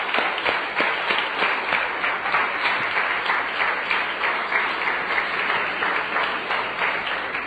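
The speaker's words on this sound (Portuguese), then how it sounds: "Pode aplaudir quem entendeu" A church congregation claps together at a sermon, a dense steady round of applause lasting throughout at even loudness.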